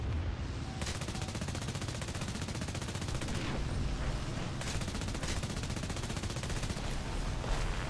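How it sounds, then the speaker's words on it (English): Anti-aircraft gunfire in War Thunder, a continuous rattling barrage of rapid shots that runs unbroken and loud throughout, with no talking over it. "Oh, that's anti-aircraft."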